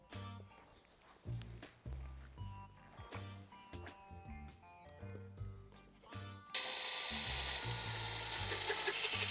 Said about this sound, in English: I drilled a little hole into where the other screw was put.